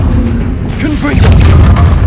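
A Confringo spell blast goes off in the Hogwarts Legacy video game, a loud booming burst with a crackling tail, set against game sound effects and a dense low rumble.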